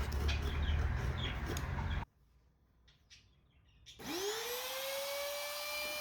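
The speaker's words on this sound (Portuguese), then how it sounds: "Uso a tupia para remover a maior parte do material" A wood router cuts away material from a cabinet panel for a bathroom cabinet, a loud broadband whine that cuts out to near silence, then a fresh high motor whine spinning up and holding steady.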